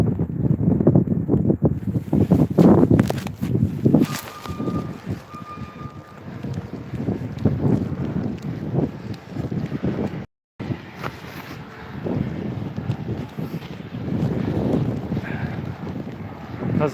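Strong gusty wind from a winter storm in upstate New York buffets the microphone in a continuous, loud roar with surging gusts, broken by a brief dropout midway.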